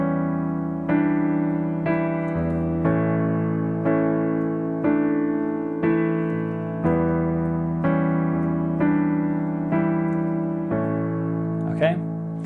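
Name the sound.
piano playing the pre-chorus melody of a song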